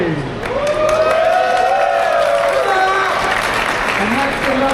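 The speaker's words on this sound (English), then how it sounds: "let's have one final cheer for each" A live crowd at an esports LAN grand final cheers and applauds steadily. An announcer's amplified voice rides over the loud, dense roar throughout.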